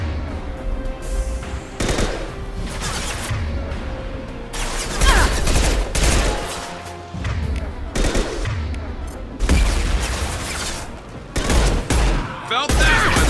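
High-impact gunshots in the Mass Effect 2 video game, loud repeated bursts of fire in clusters with brief gaps, mixed with game effects and occasional voices.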